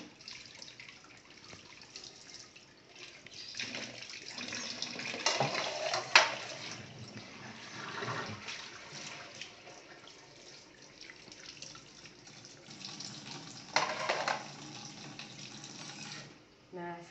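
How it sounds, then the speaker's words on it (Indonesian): Tap water runs into a kitchen sink while dishes are washed by hand, a steady, moderate splashing stream with occasional clinks and surges, under a voice talking quietly. "Kemudian terakhir barulah teman-teman mencuci piringnya."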